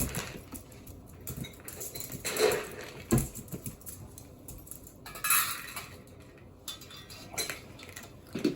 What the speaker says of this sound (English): I'm just doing the dishes